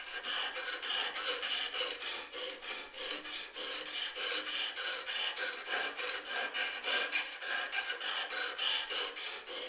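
Flexible cotton cloth-backed J-Flex sandpaper rubs against turning wood on a lathe, making a steady rhythmic rasping that pulses evenly and stays close and loud throughout, with no talking.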